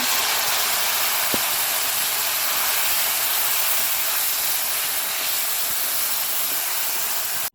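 Taro leaves hit a pan of lightly fried garlic, giving a loud, steady, close sizzle that runs unbroken and then cuts off sharply at the end.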